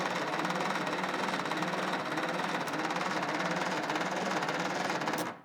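A long-idle 1937 Peugeot 201-M engine chugs continuously with a rapid, even, rattling knock at moderate volume, stopping abruptly just before the end.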